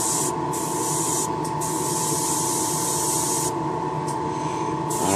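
Lacquer being sprayed from a can in a steady, loud, close hiss that runs nearly unbroken, with brief pauses and fluttering at the top as the nozzle is pulsed, and no voices.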